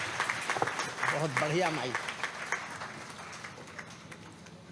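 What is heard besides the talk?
audience applause welcoming guests at a poetry gathering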